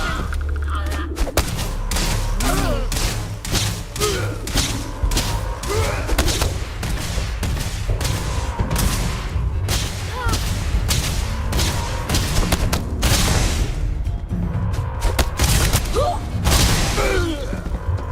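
Starship weapons firing during a space battle in Starfield, with a dense, continuous run of loud pulsing shots and heavy thumps over a low engine rumble, steady throughout with no talk.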